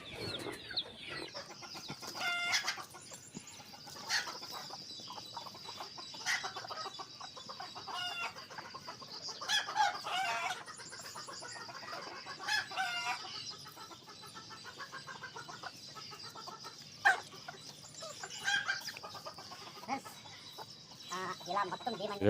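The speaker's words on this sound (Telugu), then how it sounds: "ఇప్పుడు కోళ్ళు వదులుతాము" Country chickens clucking and squawking steadily through a busy barnyard, with occasional crowing and scattered voices and movement in the background.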